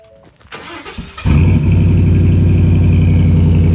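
A pickup truck with a Gibson catback exhaust cranks briefly and fires up, then settles into a loud, deep, steady idle rumble close by.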